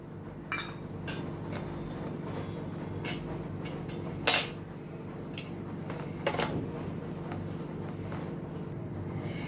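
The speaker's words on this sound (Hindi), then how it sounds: "अभी ये प्याज को अच्छी तरह से मैंने सभी मसालों के साथ मिक्स कर दिया है।" A spoon scrapes and clinks against a bowl while mixing onions with spices and lemon juice for pickle, with a few sharper taps standing out over a low steady hum.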